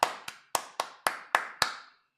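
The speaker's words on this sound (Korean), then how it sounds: "예, 박수." Seven crisp, evenly spaced claps ring out in quick succession, each sharp and close with a short decay, ending abruptly in silence, like a brief round of applause from a small audience.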